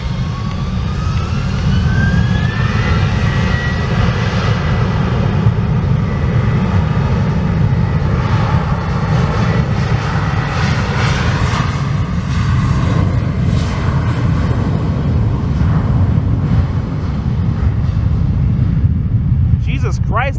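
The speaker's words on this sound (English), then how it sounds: "A321 immediate takeoff." Airbus A321 jet taking off from a runway on a muggy day, a loud sustained roar of engines holding steady throughout, with a rising whine early on and people talking over it.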